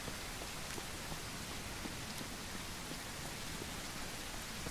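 Heavy rain falls in a survival video game, a steady, dense hiss of drops on surfaces that stays even and moderately quiet throughout.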